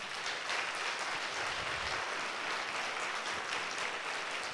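A church congregation applauding during a Sunday worship service, a dense, continuous wash of clapping from a large crowd that holds steady throughout.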